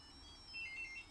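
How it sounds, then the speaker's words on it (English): A phone ringtone chirps as a soft, repeating electronic tone that grows slightly louder over a bit more than a second, fairly faint and heard on its own with no talking. "I better answer the phone."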